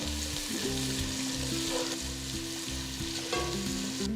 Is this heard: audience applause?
no